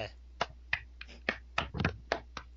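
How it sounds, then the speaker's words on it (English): Sharp, separate hand claps ring out from the Steins;Gate video game, about nine crisp hits spaced irregularly over a couple of seconds against a quiet low hum. "Alright, hear the clap? Clap, guys."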